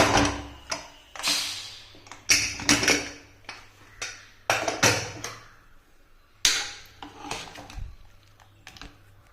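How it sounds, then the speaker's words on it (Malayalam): A pressure cooker of cooked chickpeas is handled and opened with a series of close metallic clanks, knocks and lid scrapes, each sharp hit decaying quickly, spaced irregularly over several seconds in a quiet kitchen. "നമുക്കങ്ങനെ കുക്കർ തുറന്ന് നോക്കാം നമ്മുടെ കടല"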